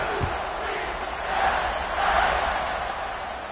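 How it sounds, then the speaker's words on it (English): A stadium crowd in the college football video game NCAA 26 buzzes steadily after a score, a dense roar that swells slightly midway and stays loud throughout with no clear talk on top. "this crowd is buzzing after that last score"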